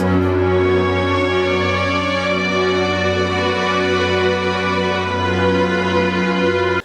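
One low, rich pedal tone is held steadily for several seconds at full volume, unchanging, then cuts off abruptly.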